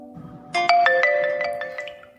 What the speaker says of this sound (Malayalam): നിന്റെ ഫോൺ ബെല്ലടിക്കുന്നു